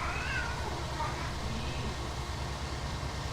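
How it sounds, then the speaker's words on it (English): A house cat meows close to the microphone near the start, over a steady droning hum from Farming Simulator 19 gameplay. "my cat has just decided to meow at everything for no reason."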